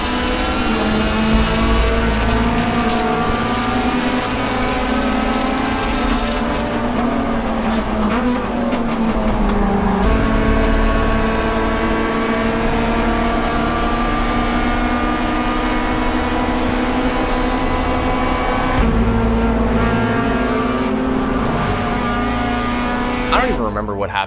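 Race cars, including a Honda Civic EG, accelerating after the green flag at Watkins Glen International in a touring car race, giving a steady, loud, layered engine drone with rising gear pulls and a commentator talking over it.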